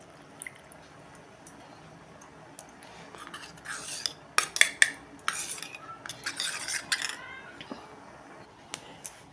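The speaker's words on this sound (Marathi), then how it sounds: "बघा आता ही पाण्यात घोळलेली कणिक आपण ह्यात ओतून घेऊन ह्या कढीला आता चांगली उकळी आणूया।" Wheat-flour-and-water slurry poured into and stirred through a pot of traditional Maharashtrian yellow kadhi: scattered metallic spoon clinks and scrapes against the vessel, building into a louder cluster of clatter in the middle before thinning out, with no talking.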